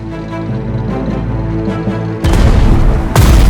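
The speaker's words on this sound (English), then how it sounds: "Attack the enemy tank." Anti-tank gun in the Strategic Mind: Blitzkrieg war game firing on an enemy tank, two loud booming shots with a roaring tail over steady game music, the second blast arriving about a second after the first.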